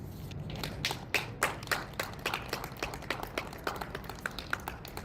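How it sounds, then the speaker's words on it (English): Audience applause at a rally, heard as a scattered run of distinct claps from a modest crowd, sharp individual hand strikes over a low background murmur, with no talking. "Give her a round of applause again, please."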